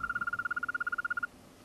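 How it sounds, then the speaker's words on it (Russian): A male European green toad gives a fast, even trill of about twenty rapid pulses at a steady pitch, clear and close, then stops abruptly, leaving quiet night background. "Всю ночь напролет самцы с завидным постоянством оглашают окрестности своим пением."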